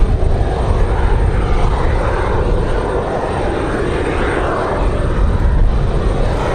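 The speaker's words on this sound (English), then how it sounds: "A good looking Cessna." A Cessna airplane at Raleigh-Durham International Airport on a windy day, its engine drone steady and fairly loud throughout, mixed with broadband wind rush and no talking.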